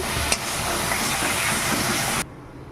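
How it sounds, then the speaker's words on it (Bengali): A spice paste with coriander powder is stir-fried in a pan for a Bengali khoira fish curry, giving off a loud, dense, continuous sizzle that cuts off sharply after about two seconds. "এবার মশলাটা খুব সুন্দরভাবে কষিয়ে নেব"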